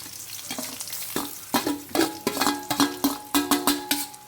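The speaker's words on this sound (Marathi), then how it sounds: "तर आता सोय की नाही बरोसं ब्राऊन कलर यायचं आहे का बरे फ्राय करून घेऊया" Grated coconut frying with onion, garlic, ginger and green chillies for a Goan-style pea curry, stirred with a run of rhythmic scraping strokes over a steady sizzle, close and fairly loud.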